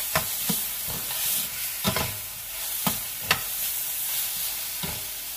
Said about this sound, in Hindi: मटर डालेंगे, थोड़ा सा इसको फ्राई करेंगे। इसमें बेल पेपर डालेंगे,